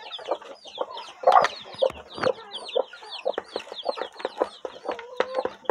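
Backyard chickens cluck busily at close range as chicks are given feed, with overlapping clucks and chirps and occasional louder squawks.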